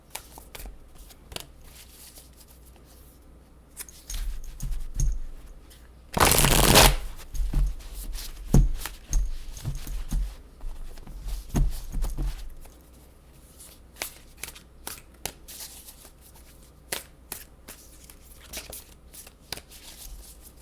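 Matte-finish tarot cards shuffled by hand, repeated riffles and soft slapping bursts over about twenty seconds, one loud close riffle standing out, with quieter card taps between.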